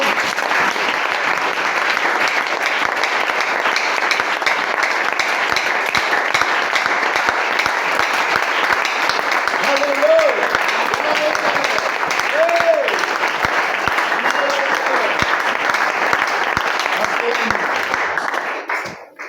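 Sustained applause from a church congregation fills the whole stretch, steady and dense, with a few faint voices rising through it near the middle before it cuts off at the end.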